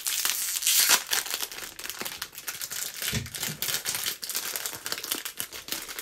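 A plastic snack packet crinkles loudly and continuously up close as it is opened, with sharp rustling crackles and brief tearing bursts.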